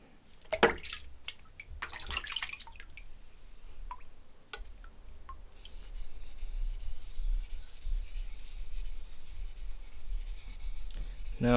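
A sushi knife is worked over a polishing whetstone, first with a few scattered scrapes and wet clicks, then a sustained close, smooth grinding rub across the second half.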